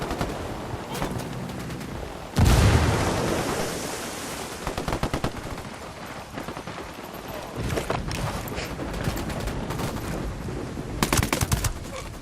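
Gunfire and a frag grenade blast in the Ghost Recon Wildlands video game, with a sudden loud burst followed by continuous crackling rifle and machine-gun fire, dense and sustained, intensifying again near the end.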